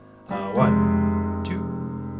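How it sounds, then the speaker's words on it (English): A piano plays the interlude of the worship song Worthy with both hands together: a sustained chord enters, a second attack follows, and the notes ring and slowly fade. "And hands together sounds like this"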